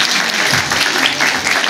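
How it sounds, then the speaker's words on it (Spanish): Audience applause at a magazine launch event, a dense, steady burst of many hands clapping at close range throughout, with no talk over it. "Fuerte el aplauso para ti"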